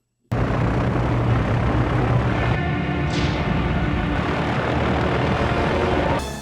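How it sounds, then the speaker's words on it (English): Engine of a hovering blimp in a cartoon, a loud, steady airborne drone that starts abruptly and holds a constant roar for several seconds before cutting off. "Is there anything more terrifying than a hovering blimp?"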